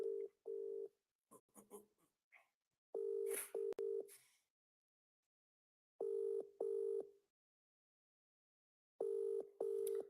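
Telephone keypad tones beep in short paired bursts as a number is dialed to call someone back, separated by brief pauses, with a few scattered clicks and faint noises between the groups.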